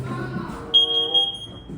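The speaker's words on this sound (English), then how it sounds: "we got a couple beeping smoke detectors in here" A couple of smoke detectors beep inside an abandoned house being renovated, a few short high-pitched chirps in quick succession, moderately loud, following a brief bit of talk.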